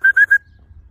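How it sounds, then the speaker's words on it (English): Three quick, bright whistle blasts in a steady rhythm are given as a recall cue to a Boerboel dog during training on a walk. They sound close and loud and then stop abruptly. "A wee whistle, he stops."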